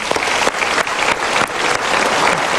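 Studio audience applauding during a Metro TV talk show, a steady wash of clapping hands that holds for the whole stretch, loud and close, with no voices over it.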